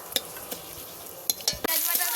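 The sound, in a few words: cardamom and dried red chillies sizzling in hot oil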